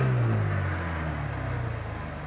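A 1984–1994 Ford engine is briefly goosed during a key-on engine-running trouble code test, a steady mid-pitched engine note with a short rise in revs, close and continuous with no talk.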